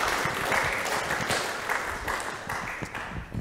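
Applause from an audience at a community event on creativity and connectivity, a steady dense wash of clapping held throughout at moderate, close volume.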